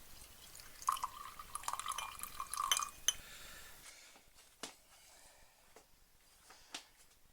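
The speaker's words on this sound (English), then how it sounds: "Minimum 40 peas in a glass, topped with water, left overnight" Water pours into a glass holding dried peas set to soak overnight, with a close, trickling stream and light glassy clinks, then scattered drips and small knocks as it settles.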